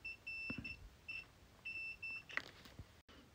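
Multimeter continuity beeps while probing a shorted resistor on a solar iBoost board: several short, thin electronic tones in quick succession, faint and close, with small handling clicks between them.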